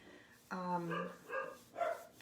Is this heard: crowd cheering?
no